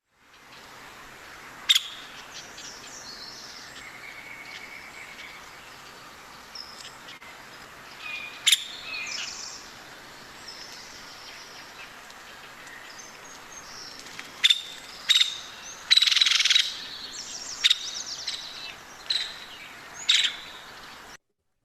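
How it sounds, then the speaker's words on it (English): Recorded calls of a Nuttall's woodpecker, several sharp, high notes scattered through a steady background hiss, with a brief burst of rapid chatter near the middle-late stretch; fairly faint and distant with no talking. "that is our Nuttall's woodpecker"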